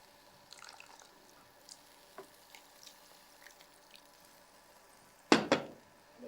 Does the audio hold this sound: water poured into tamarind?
yes